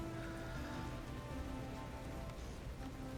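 Steady rain falls outside a tavern-style inn, a dense, even hiss of drops on surfaces lasting throughout, with no voices and no thunder.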